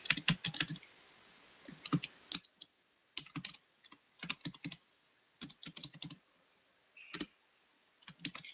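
Typing on a computer keyboard while writing CSS code, heard as close, crisp bursts of key clicks separated by short pauses, with no voices.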